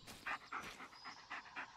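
Bolt the dog pants in Blair Witch with quick, rhythmic breathy huffs close by, about eight breaths in under two seconds, quiet and with no talk.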